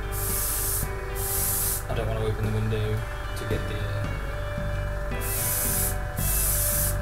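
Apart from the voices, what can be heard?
airbrush spraying primer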